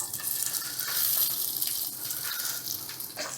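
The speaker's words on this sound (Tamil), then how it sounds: "இதில் நேராக தண்ணியை ஊற்ற போகிறோம்." Water pours straight into a pan holding coconut oil and jackfruit seeds for a prawn, jackfruit seed and raw mango curry, a steady broadband gush without pause.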